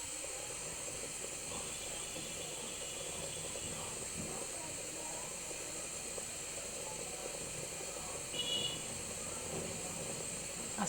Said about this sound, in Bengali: এখন মূলাগুলো ভেজে নিবে সেই তেলে।